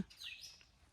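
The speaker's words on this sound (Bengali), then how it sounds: "পাখির ডাক" A single quiet bird chirp, a short rising-and-falling tweet heard faintly in an otherwise calm outdoor setting, in jungle by Talberia Dam, Purulia, on a foggy morning.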